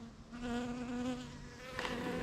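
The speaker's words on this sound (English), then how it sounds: "a fucking bee on my camera" A bee buzzes close to a camera outdoors, a steady, faint droning hum that swells and fades slightly as it hovers nearby.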